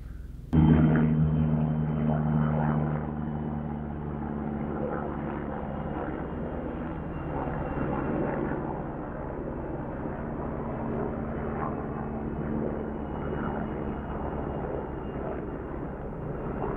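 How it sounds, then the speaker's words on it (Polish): A helicopter flies over an autumn forest, a loud, steady low rotor and engine drone with a strong tonal hum that starts abruptly and holds constant throughout, with no speech. "Helikopter na niebie."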